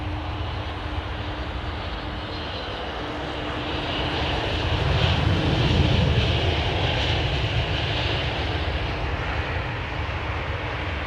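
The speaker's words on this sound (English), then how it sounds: "A crazy profile of that 757. RB211's on that one." A Boeing 757 powered by Rolls-Royce RB211 engines lands on a wet runway at Heathrow, a steady loud jet roar that swells toward the middle and then holds, with rain-soaked rumble and hiss beneath it.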